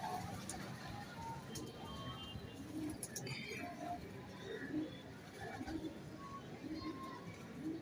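Pigeons of a border breed cooing in their breeding setup, paired birds making soft low coos throughout, with faint chirps and some background chatter mixed in.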